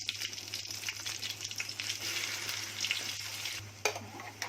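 Spice masala frying in a pan for a Surmai (king mackerel) fish thali, a steady broadband sizzle with scraping stirs throughout, a steady low hum beneath and a sharper clatter near the end.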